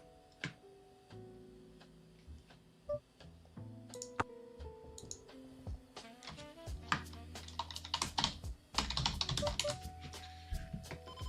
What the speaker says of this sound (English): but we were typing on another screen.